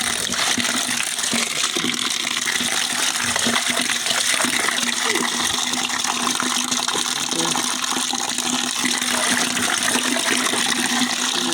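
Water pours and splashes continuously while spinach and other vegetables are washed, a dense, steady gush running close by without any talk.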